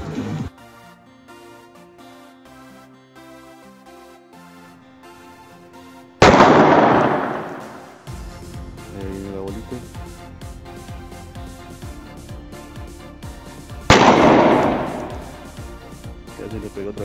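A Bruni GAP Glock 17 blank pistol fires two loud, booming shots several seconds apart, each ringing out and fading, over steady background music with a voice present.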